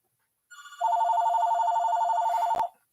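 A telephone rings with a bright electronic warble that starts softly, then swells into a steady trilling tone for about two seconds before cutting off, loud and close with no talking.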